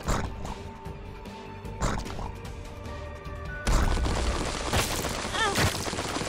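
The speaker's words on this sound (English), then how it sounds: "Those count as explosions also," Explosions in The Binding of Isaac: Rebirth, a few sharp blasts standing out from busy game sound, with a louder, denser stretch of crashing impacts in the second half.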